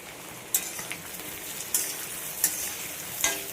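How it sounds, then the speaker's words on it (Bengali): Bitter gourd frying in ghee in a home kitchen gives a steady, close crackling sizzle, broken by four sharp stirring clicks spaced about a second apart. "এখানে করলা ভাজা হচ্ছে করলা ভাজার ঘি দিয়ে করছি"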